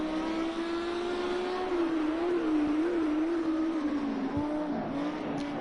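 A race car circles the Long Beach street circuit, its engine whine steady and loud, pitch wavering through shifts and corners with a brief tire squeal, and no voices are heard.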